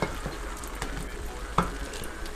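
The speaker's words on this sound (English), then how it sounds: "So you put in your tomatoes, that's good, and then you let it sit and cook" Tomatoes frying for fried rice give a steady, close sizzle in the pan with a few soft stirring scrapes and one sharper knock partway through.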